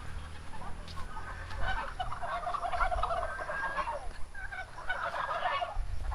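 Turkeys gobble in bursts over a steady outdoor background in the Philippines, the warbling calls repeating a few times at moderate distance.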